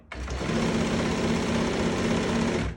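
A sewing machine runs steadily for a few seconds, a fast rattling stitch that starts and stops abruptly, close and fairly loud with no talking.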